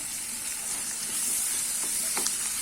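Capsicum and tomato sauté in a pan with turmeric added, a soft, even sizzle with faint scraping stir sounds now and then, close by and without voices.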